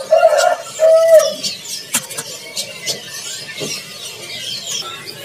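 A caged male bird at a bird market gives a few short, clear whistled calls close by, followed by softer chirps and market noise in the background.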